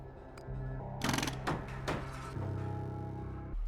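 Combined mechanical effects for repairing a train car in the game Frost Loop: a low droning hum runs under a cluster of sharp clanks and ratchety bursts near the middle, all fairly quiet and without speech.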